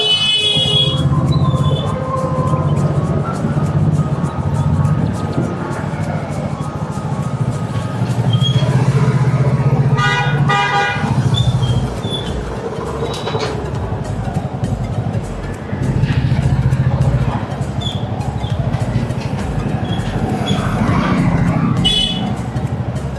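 Vehicles crawl through a traffic jam in the narrow lanes of Patiala, with engines droning close and loud, and bursts of car horns sounding over the din while voices carry in the background.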